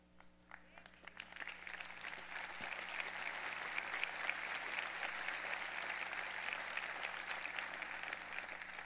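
Church congregation applauding during a Spanish-language sermon, a dense sustained round of clapping that builds over the first seconds and then holds steady and loud, with a faint hum underneath and no talk over it.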